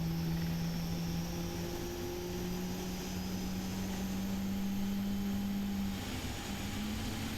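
Steady jet engine whine of a PMDG Boeing 777-300ER in Flight Simulator X, with a low droning hum and a high tonal whistle, loud and continuous without pauses, no voices.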